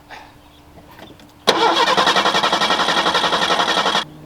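A Ford Mustang with a carbureted engine cranks loudly with a rapid, even chugging of the starter for about two and a half seconds but never catches, then falls quiet.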